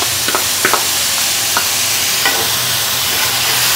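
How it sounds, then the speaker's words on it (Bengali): Steamed cauliflower and coarsely cut onion stirred in a hot frying pan, a loud constant sizzle with several sharp spatula scrapes and taps against the pan, no voices. "এগুলোকে একটু নেড়ে চেড়ে মিক্স করে নিচ্ছি"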